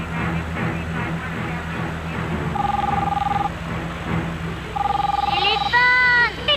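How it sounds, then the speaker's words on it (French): Telephone ringing in a tense police action scene, two bursts of electronic trilling ring heard over a constant hum and busy background voices and noise, followed by a sweeping tonal sound. "Téléphone! Décrochez le téléphone!"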